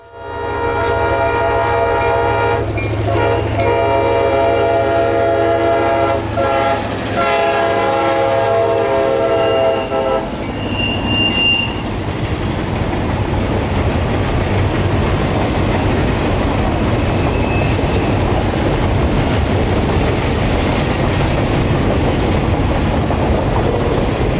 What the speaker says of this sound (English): There was yet another empty cane train to pass before the Christmas train could leave.